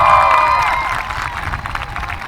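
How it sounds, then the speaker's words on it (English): Applause and light cheering rise from a high school graduation crowd honoring teachers, loud at first and thinning slightly, with sustained tones from a voice or microphone ringing over the start. "I think our teachers deserve a big round of applause."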